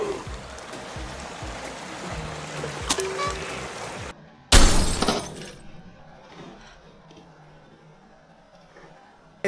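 A LEGO creation runs down a water slide with a steady rush of water, then hits the bottom in one sudden, loud crunching crash. A splashy trickle follows and fades to quiet.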